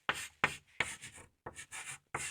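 Marker strokes on a board, several separate scratchy bursts of writing with short pauses between them, close and clear with no talk.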